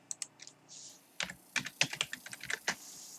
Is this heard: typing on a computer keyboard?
yes